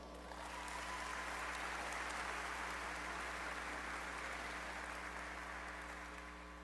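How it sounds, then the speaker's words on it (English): Steady, sustained applause from a university convocation audience honoring newly tenured and promoted faculty, a dense continuous patter filling the hall at moderate distance with a faint background hum. "Please join me in applauding our faculty newly tenured and promoted one more time"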